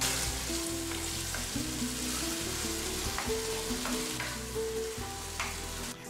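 Ready-to-eat meat product heating in a pan with vegetables, a loud continuous sizzle with bursts of stirring and scraping close by.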